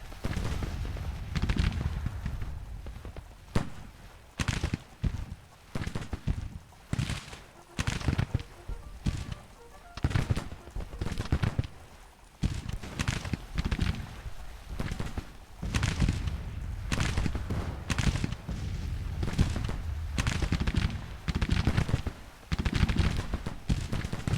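Rifle and musket gunfire crackles through a Civil War battle video game, with dense, repeated shots in irregular bursts and volleys, some near and loud, others more distant, sounding almost continuously for the whole stretch.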